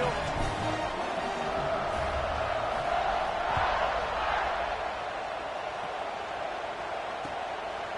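Football stadium crowd at a kickoff late in the fourth quarter, a broad steady roar of many voices filling the whole stretch at a constant moderate level with no clear peaks.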